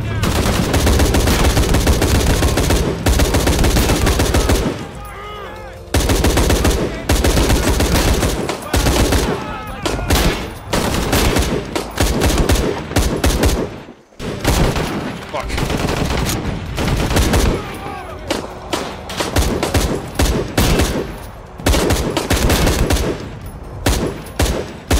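Sustained automatic gunfire and bursts of shots in the action video game Shadow of the Tomb Raider, loud and dense with brief pauses and a near-silent gap midway, over background game sound.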